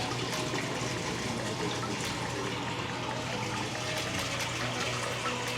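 Steady, loud rush of water pouring out of a Civilion HY308 submersible pump into a 225-gallon aquarium, a dense broadband splashing flow with no voices.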